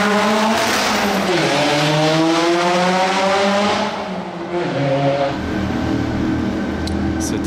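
A supercar engine, an SV model, revs at a car-spotting event with rising and falling harmonic engine tones over steady background crowd and street noise, fairly loud and continuous.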